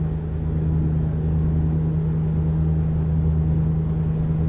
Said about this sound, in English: I can't hear you over a stupidly loud V8.